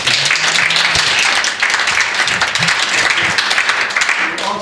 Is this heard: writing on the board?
no